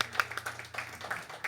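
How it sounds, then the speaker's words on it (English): Audience at a women's songwriter showcase applauds the previous performer, with scattered, fairly quiet clapping spread evenly through the moment and no voices on top. "Let's give her another round of applause."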